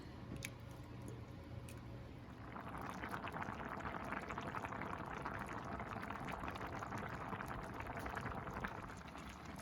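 Broth pours into a pot of backcountry dehydrated-dinner fare and is stirred in, a steady close liquid wash and churn that swells after a brief quieter start and carries on evenly, with no talking.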